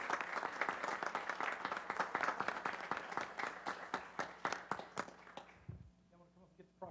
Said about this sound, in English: Y'all join me in a round of applause for the Junior League.